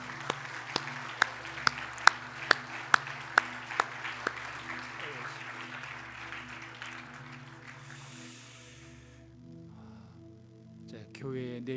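Applause at a church retirement and ordination thanksgiving service honoring four elders: a broad patter of many hands, with a few sharp isolated claps, over sustained organ-like tones. It thins out after about seven seconds.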